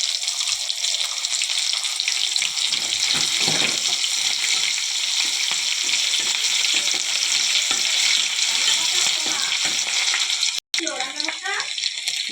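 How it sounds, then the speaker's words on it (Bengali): Onion and bay leaf with cumin fry in a pan, making a loud, continuous hiss and sizzle with scraping stir strokes throughout and a brief cut near the end. "পেঁয়াজটা ভাজা হয়ে গেছে"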